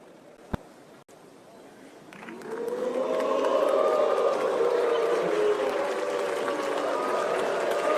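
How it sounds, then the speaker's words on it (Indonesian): A large crowd at a public ceremony claps while booing and drawn-out "huu" jeers build in, starting quietly and then rising to a loud, sustained roar of mixed applause and disapproval. "Nah ini juga ditepuk tangan tapi ada suara hu-nya."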